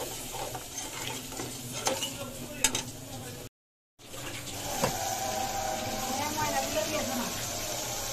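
Hilsa fish pieces coated in turmeric, chili and five-spice mix are stirred in a sizzling pan, with a steady close fry hiss, scraping stirs, and a voice talking over it. The sound cuts out briefly midway.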